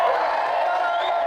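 A live audience at a pub podcast show cheers loudly and steadily, a dense roar of many voices filling a room.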